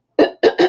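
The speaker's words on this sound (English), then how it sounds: "I can't seem to clear my throat" A person with bad allergies clears their throat in three short, close, loud guttural coughs.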